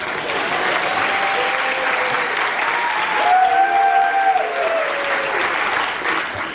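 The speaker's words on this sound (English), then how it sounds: "I think I'll burst into thunderous applause, please." Sustained audience applause from a seated crowd at a magic show, a steady dense wash of clapping heard alone with no talking over it.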